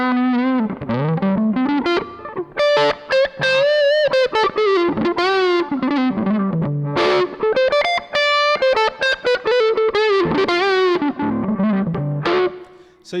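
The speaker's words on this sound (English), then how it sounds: "But a Marshall Class 5 all the way up is pretty stinking loud." A Marshall Class 5 guitar amp turned all the way up plays heavily distorted guitar, loud sustained notes and bends broken by short pauses, with no talking.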